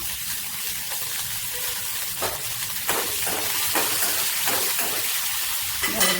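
Onion pieces dropped into hot oil with browned urad dal, giving a continuous bubbling sizzle with several sharper crackles and stirring scrapes, close and steady, without speech.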